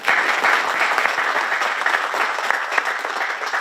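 Dense, steady applause from a sizable audience fills the whole moment, a continuous wash of many hands clapping.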